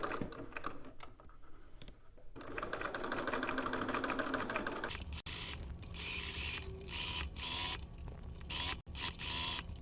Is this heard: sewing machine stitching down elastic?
yes